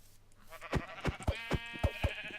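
Sheep in the Minecraft video game bleat in a rapid run of about eight short, wavering, nasal calls, close and loud with no talk over them.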